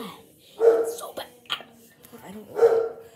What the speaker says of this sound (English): Oh my god. My dog's barking.